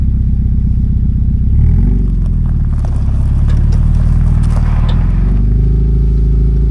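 A vehicle engine cranks and catches, then settles into a loud, steady low idle with some rattling clatter, close to the microphone.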